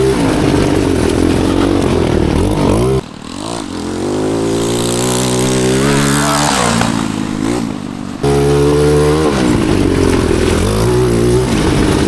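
Cheap 250cc five-speed engine on a go kart revs hard and loud, drops in pitch for about five seconds as the throttle is released to shift, then climbs back to a strong roar.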